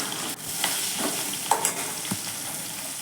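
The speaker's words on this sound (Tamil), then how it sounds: "உப்பு சேர்த்துட்டு நல்லா வெங்காயமும் பூண்டும் வதங்குற அளவுக்கு வதக்கிக்கணும்." Onion, garlic, dried chillies and salt sauté in a pan, a steady close sizzle with a few soft stirring scrapes and clicks of the spoon breaking through.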